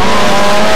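Hot-rod race cars at The Pike racetrack in 1996 roar loudly and steadily close by, with a sustained droning engine tone and no voices.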